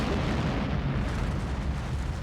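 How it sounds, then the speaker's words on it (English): A stock explosion sound effect from the 2005 Yakuza video game roars as a dense, sustained blast of low rumble and crackling noise, loud and unbroken for a couple of seconds with no talk. "that's the most stock like explosion sound effect"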